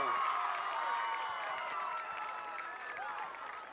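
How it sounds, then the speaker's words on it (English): A crowd at a high school football game between Redondo and Leuzinger cheers and applauds the announcer, Howard Ho, in a steady wash of clapping and whoops that eases slightly as it goes on. "Please, big round of applause, show your love for Mr. Howard Ho, ladies and gentlemen"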